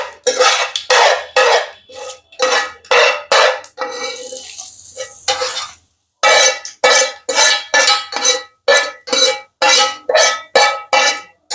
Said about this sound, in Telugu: పోపుని దీంట్లో కలుపుకోవాలి.